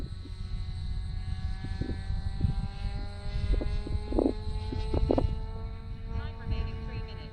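A Mustang airplane rolls along a taxiway, its engine giving a steady, close, droning hum with a constant tone that holds throughout, punctuated by a few brief clicks.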